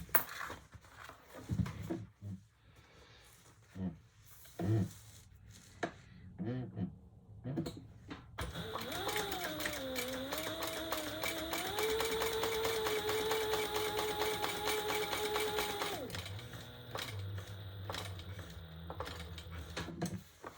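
A sewing machine stitches a seam through blue croc and ostrich leather in one long, steady mechanical whir that lasts several seconds. Short scrapes and handling noises come before it, and a low hum follows.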